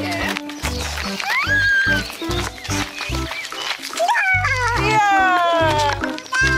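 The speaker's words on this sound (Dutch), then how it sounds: "Daar is Poes." A cat meows repeatedly, loud and close, with drawn-out rising cries mixed with a voice and other talk.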